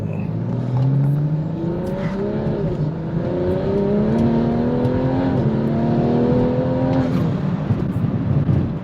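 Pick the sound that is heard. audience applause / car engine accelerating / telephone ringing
car engine accelerating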